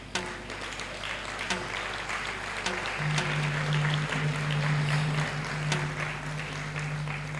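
Applause at a conference for staff and management standing in the hall, a steady, moderate wash of clapping over a low steady hum, with a sustained tone entering partway through.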